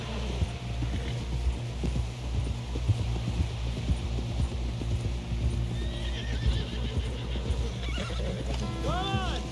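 A horse galloping in the video game Red Dead Redemption 2, rapid rhythmic hoofbeats with a whinny and bright game sound effects near the end, close and steady.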